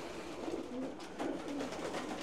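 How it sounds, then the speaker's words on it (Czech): Homing pigeons cooing in a loft: soft, repeated low coos overlapping one another, steady and fairly close, with no speech. "tady jsou mezi nimi některý pošťáci, který jsem dostal"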